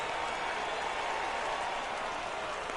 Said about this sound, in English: It's always nice to give your fans at home something to cheer about, and they definitely did that right here